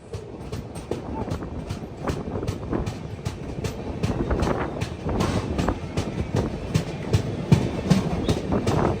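Kondaveedu Express passenger train running on the Yeshwantpur route, a steady rumbling roll with repeated clickety-clack wheel beats over rail joints and wind buffeting, heard from on board without talk.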